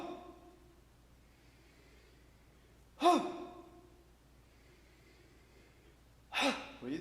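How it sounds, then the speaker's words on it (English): Two forceful exhalations blown out during a tai chi breathing exercise, each a sharp breathy burst about three seconds apart, close and clear over a quiet background. "Let me hear you blow that breath out."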